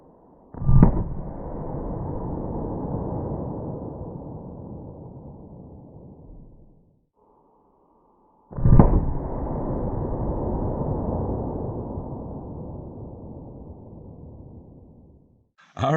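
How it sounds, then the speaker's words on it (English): A .357 Magnum snub-nose revolver firing Federal HST ammunition, two sharp loud reports several seconds apart, each followed by a long decaying rumble, with a third shot starting at the very end. "let me set that back up and hit it with the 357 Magnum"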